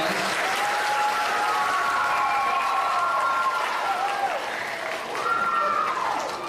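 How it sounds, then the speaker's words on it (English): Sustained, dense applause fills an indoor school evening event, steady and loud for several seconds, with voices calling and cheering over the crowd's clapping. "Big round of applause right over here to Mrs. Lohberger as well."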